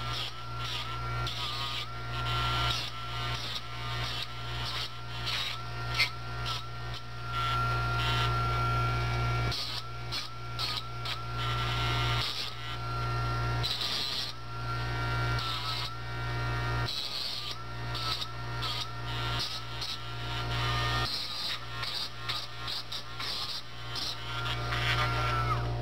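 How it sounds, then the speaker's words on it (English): Sharp cut wire ends on a slot car chassis being smoothed with a file, a steady close rasping scrape repeated in strokes over a faint constant hum. "knock these sharp edges off of the wire where we have cut them off"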